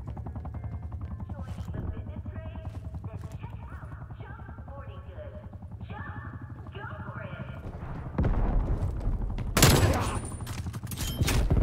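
A napalm strike lands during an online match of Call of Duty Black Ops Cold War: steady rattling gunfire and clatter, then a loud roaring burst that swells and crackles near the end.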